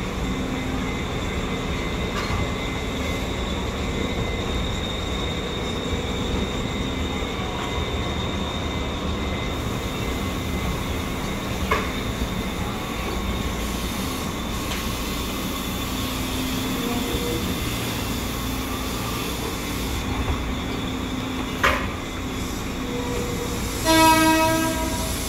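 Electric KRL Commuter Line train shunting at Bogor station, a steady rumbling rail drone with a clanking burst near the end and a faint tonal whine throughout, no talk.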